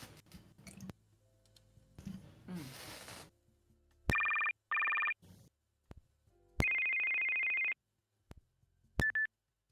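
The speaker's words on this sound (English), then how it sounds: "we're listening to phone ringtones to try and figure out where the hell they came from." Phone ringtones play through several short electronic melodic bursts, some repeated in pairs and one held longer, separated by clicks and quiet gaps, with brief bits of rustling and voices at the start.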